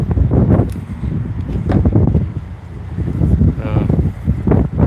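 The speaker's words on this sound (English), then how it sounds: "It's getting windy, but it's nice." Gusty wind buffets the microphone in low rumbling bursts while a person talks intermittently nearby.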